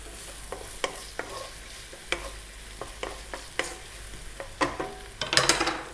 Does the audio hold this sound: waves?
no